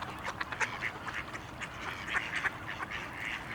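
Wintering waterfowl ducks quack in scattered bursts, several calls overlapping at a moderate distance over a low outdoor background rumble.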